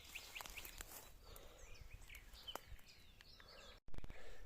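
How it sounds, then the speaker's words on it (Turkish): Birds chirp and call faintly across a rural garden plot in a village near Gönen, Balıkesir, with scattered short tweets over steady outdoor background noise and a brief dropout near the end. "Doğanın içerisine bak kuş sesleri."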